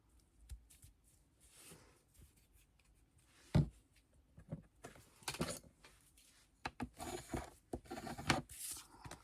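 Glue is spread on thick scrapbooking paper for a Christmas sweater ATC, giving soft, irregular rubbing and scraping strokes that grow busier toward the end, close and fairly quiet, with no speech.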